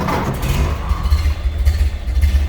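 A 1929 Ford Model A coupe engine running just after starting, a deep, steady low rumble with a slight throaty hot-rod character and faint clatter, close and continuous.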